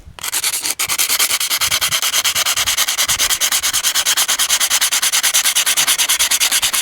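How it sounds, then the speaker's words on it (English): Steady, rapid back-and-forth sandpaper scrubbing over the coated steel blade of an Izula-II knife, close and loud with an even rhythm that runs without pause. "I'm going to grab some sandpaper here."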